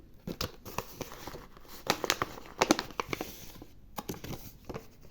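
A small paper gift bag from a jewelry store crinkles and rustles in close handling, with a run of sharp, irregular crackles that swell and fade in bursts.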